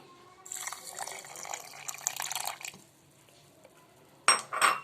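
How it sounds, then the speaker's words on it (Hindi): About two cups of water are poured into a blender jar already holding falsa berries and sugar, making a steady splashing stream for around two seconds. Then comes a pause, and then a couple of sharp clinks against the jar. "अब इसके अंदर मैं ये जो मैंने आपको 2 कप पानी बताया था वो डालने लगी हूँ"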